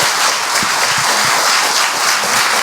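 An audience applauds to thank Professor Park No-ja after his lecture and Q&A at a monthly talk, a dense, steady round of clapping from a full room lasting throughout.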